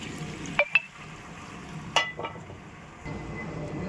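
Cooked pasta stirred into a chicken masala in a pan, with a few sharp clinks of a spoon against the pan over a soft, steady sizzle, no talking.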